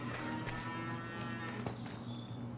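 Cows moo at a farm alongside a Case IH AFS round baler 456 HD Pro, a drawn-out bovine call over a dense, steady machine drone.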